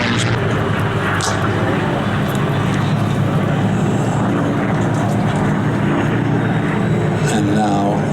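Supermarine Spitfire with a Merlin engine roaring past at an air show, a loud continuous propeller drone filling the scene from start to finish, with a commentator's voice faintly mixed in under the engine noise.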